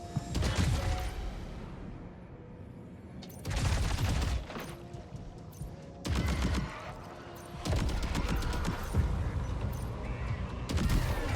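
Assault rifle gunfire in the video game Death Stranding 2, with loud bursts of automatic fire in several volleys separated by short pauses and a steady game background underneath.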